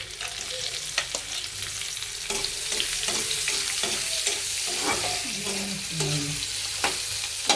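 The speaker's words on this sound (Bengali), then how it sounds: "এখন আমি পেঁয়াজ কাটা দিয়ে দিতেছি" Chopped onions frying in a pan for a home-cooked meal of radish dal, taki fish and egg bhuna, a close, steady sizzle broken by frequent clinks and scrapes of stirring, with no talking.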